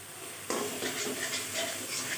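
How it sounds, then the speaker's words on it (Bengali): A spice masala with Kashmiri chili powder hits a hot pan and is sautéed and stirred, a sudden sizzle bursting in and settling into a steady, close hiss. "এখন মশলাটা ভালোভাবে কষিয়ে নেব কাশ্মীরি লঙ্কার গুঁড়ো দিলে তরকারির রঙটা সুন্দর দেখায়"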